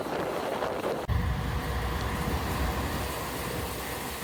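A passenger train rolling into Bhanga Junction, a steady low rumble of wheels and carriage noise with wind buffeting, after a brief sharp knock near the start.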